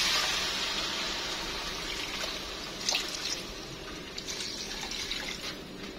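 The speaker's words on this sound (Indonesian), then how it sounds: "Saya tambahkan air" Water poured into a pan of carrots while cooking capcay, a steady close trickling wash that runs throughout with small splashy surges, no talking.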